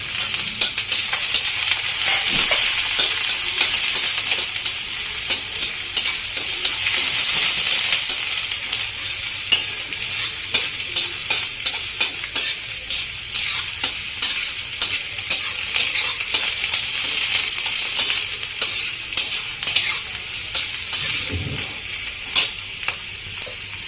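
Chopped onion fries in a hot black pan for a Maharashtrian bean curry, a loud continuous sizzle and hiss with occasional scraping stirs, alone without talk.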